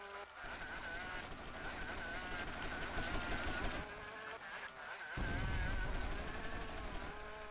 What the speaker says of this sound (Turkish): Adam hala sapık gibi bana sıkıyor arkadaşlar.